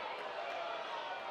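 A college softball crowd at an Oklahoma vs Abilene Christian game reacts to a called strike with a dense, steady roar of murmuring voices that holds evenly throughout, with no single voice standing out.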